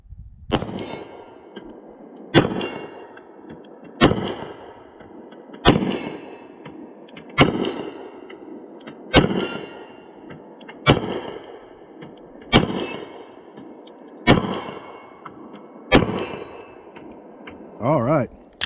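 Sig P320 XTEN 10mm pistol fired at a steel plate 40 yards away outdoors: about ten loud, sharp shots at a slow, even pace, each followed by a fading ring, no talking.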